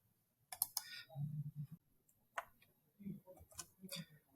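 Computer mouse clicks while navigating the MetaMask wallet interface: a few crisp, close clicks scattered irregularly, with faint low background murmur between them.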